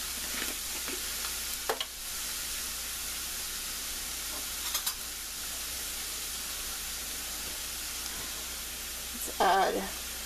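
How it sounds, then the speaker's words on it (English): Tuna heats in a frying pan, giving a steady broadband sizzle with a few clinks and stirring sounds, and a voice briefly near the end. "tuna in the pan, heating that up"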